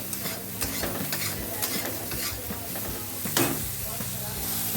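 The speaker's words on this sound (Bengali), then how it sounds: "এটাও আমি ভালো করে নেড়ে নেবো" Ridge gourd seasoned with turmeric and salt is stirred in a frying pan, a spatula scraping in steady repeated strokes over a soft continuous sizzle, close and moderately loud, with no talk.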